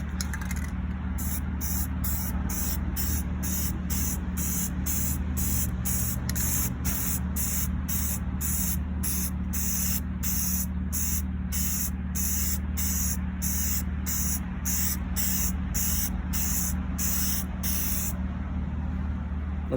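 A spray can lays a first light tack coat of paint on a wheel in a run of short, sharp hissing bursts at a steady rhythm, close by over a low background hum.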